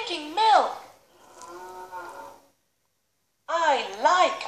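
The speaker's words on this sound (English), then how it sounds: "There's a cow. And the cute little calf." A cow moos loudly several times, long drawn-out calls with a pause of quiet between the last two.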